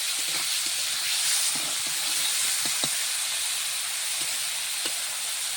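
Fish frying in a pan, a steady close hiss and sizzle with occasional soft pops and clinks running throughout, no voices.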